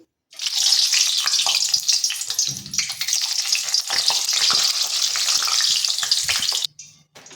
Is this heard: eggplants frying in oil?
yes